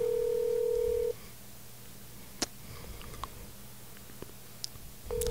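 A telephone line tone cuts off and is followed by sparse faint clicks and beeps of speed dialing, quiet and close, ending with another tone starting.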